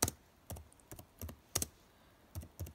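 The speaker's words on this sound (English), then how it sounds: "so I'll just type in LED net lights" Quiet, close bursts of keystrokes on a computer keyboard arrive in short irregular clusters separated by brief pauses, with no voices present.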